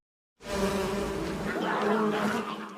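Bees swarming from a thrown bee nest in an adventure film, a dense loud buzzing that starts abruptly and holds steady to the end.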